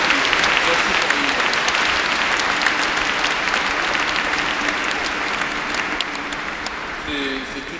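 A congregation applauds inside the Saint-Sulpice church, sustained dense clapping that fills the reverberant space and tapers slightly toward the end.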